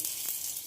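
Vegetable tiffin fries under the lid of a covered pan, giving a steady, soft hiss of sizzling oil that stays even and close throughout, with no voices.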